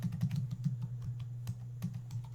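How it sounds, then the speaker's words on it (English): Quick clattering keystrokes on a computer keyboard as a web address is typed into a browser's address bar, a close, continuous burst of taps over a low steady hum. "Type in your address bar"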